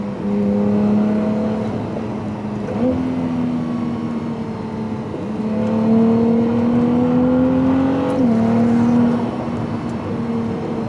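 A Ferrari 296 GTS V6 hybrid engine accelerates in a loud, smooth, rising tone that climbs through several gear changes with brief dips between pulls, sustained and close with no talk.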